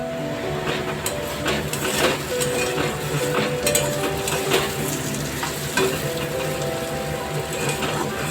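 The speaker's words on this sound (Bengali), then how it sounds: "এদিকে আলুটা ভাজা করে নিয়েছি" Potatoes fry in a home kitchen pan with a steady, close sizzle and crackle, broken by stirring scrapes, and no talking over it.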